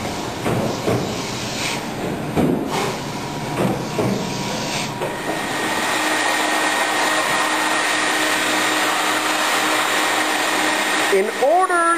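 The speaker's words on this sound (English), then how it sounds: "the plaques are then vacuum cleaned before setting the poster assembly on the plaques" A vacuum cleaner works over MDF wood plaques in a poster-mounting workshop. Its loud, steady whooshing drone settles in after about five seconds of busier, uneven machine noise and runs on to the end.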